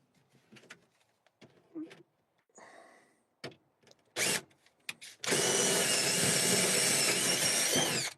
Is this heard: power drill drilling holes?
yes